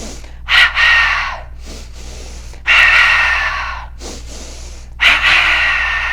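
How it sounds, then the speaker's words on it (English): Three bursts of sharp, forceful breathing during a held yoga pose, each a quick double exhale through the nose, spaced a couple of seconds apart and close up over a low steady hum. "3 double breaths here."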